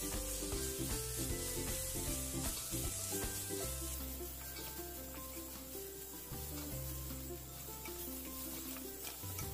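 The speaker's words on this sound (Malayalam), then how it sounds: "ഇഞ്ചി വെളുത്തുള്ളി പേസ്റ്റ് ഇട്ട് നന്നായിട്ട് വഴറ്റി കൊടുക്കണം." Ginger garlic paste sautéing with onions in a pan for mushroom masala curry, a soft continuous sizzle with stirring and scraping, faint and close, no talking.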